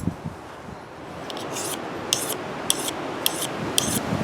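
Steady sweeping strokes of a knife blade across a sharpening kit during a wet-weather bushcraft day, a soft continuous rasp with five brighter, evenly spaced scrapes closing the sequence.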